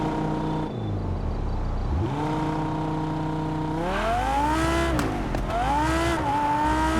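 A sports car in the racing game Test Drive Unlimited Solar Crown using launch control: a loud, steady engine drone rises in pitch through several gear changes, with a brief tire squeal.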